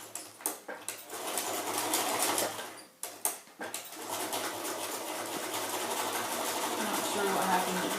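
A sewing machine top stitches a face mask seam an eighth of an inch from the edge, starting in short stop-and-go bursts before settling into a steady, even whir.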